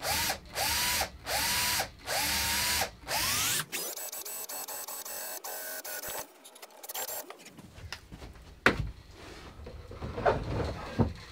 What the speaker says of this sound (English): Long drill bit, cordless drill.